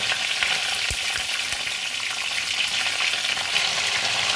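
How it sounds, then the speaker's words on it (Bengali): Pointed gourd (potol) pieces fry in hot oil with a dense, steady sizzle up close, broken by a single light clink early on. "পটলগুলো আমার ভাজা ভাজা হয়ে গেছে"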